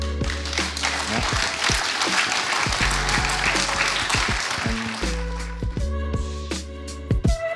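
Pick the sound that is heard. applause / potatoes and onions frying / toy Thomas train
applause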